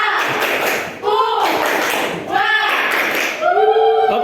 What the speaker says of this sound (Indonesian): Tepuk Papua semuanya.